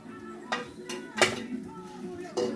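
A spoon stirs chicken soup with a smoky fish touch in a metal pot, sharp clanks and scrapes recurring every half second or so, close and clear against a quiet background with faint voice.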